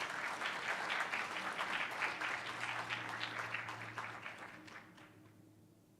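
A school board meeting audience applauds honored teachers, a steady round of clapping from a crowd that gradually fades out toward the end.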